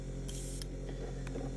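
An airbrush sprays Archive-X weathering onto a scale model at high pressure, around 15 to 20 psi, giving a steady, close hiss with a few brief bursts on top.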